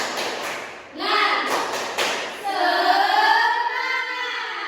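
Schoolchildren in a classroom do a rhythmic spirit clap, quick claps and thumps followed by a loud group chant of young voices, close and lively.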